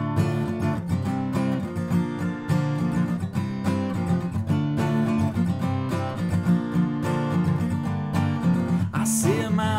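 Acoustic guitar plays the intro sequence of a song, a steady, busy pattern of picked and strummed notes, loud and close throughout with no talking.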